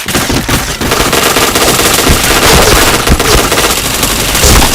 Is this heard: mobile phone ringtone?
no